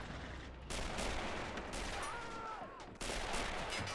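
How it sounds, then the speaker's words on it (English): Distant K98 rifle fire from German infantry advancing on a Polish hill position in 1939, in the Men of War game, with sharp cracks among a dense background battle rumble and sporadic volleys. "K98 fire down there is very accurate."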